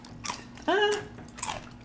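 Chocolate protein cereal crunches in short, crisp bites, with a few separate chews close to the mic. A brief vocal sound falls between the crunches.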